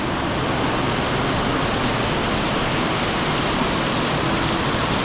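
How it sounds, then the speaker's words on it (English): Heavy rain pours steadily in Macau, heard from a parking garage as a dense, unbroken roar of falling water with no pauses or voices. "The rain is so strong right now."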